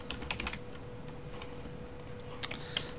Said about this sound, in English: I can click on it, and I just type in tutorial